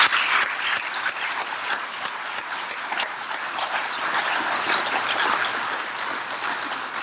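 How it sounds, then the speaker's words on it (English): An audience at a 2019 awards ceremony applauds its communication officers of the month, a dense, steady wash of many hands clapping throughout. "Let's extend a round of applause for all of our communication officers of the month."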